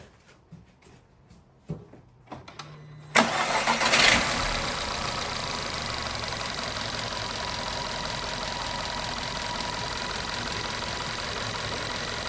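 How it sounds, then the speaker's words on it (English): A VW Golf Mk6 engine cranks and catches after new ignition coils are fitted; faint clicks and handling noises come first, then the starter kicks in and the engine settles into a steady, even idle that runs loud and close to the end. "now I'm gonna start the car and just see if it's running okay."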